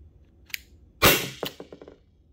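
A Byrna HD launcher fires oiled rubber balls: one loud sharp pop followed by a quick run of fainter clicks and taps, with a small snap just before it, in a quiet setting.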